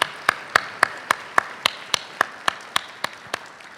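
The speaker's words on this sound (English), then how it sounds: "Let's give our presenters as well as our honorees another round of applause." Applause for presenters and honorees at a teacher-recognition ceremony: one set of close, crisp hand claps beats at a steady quick pulse, about a dozen in a row, over a soft wash of room noise.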